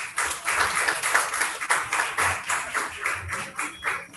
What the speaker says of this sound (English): So I would like us to give her a round of applause.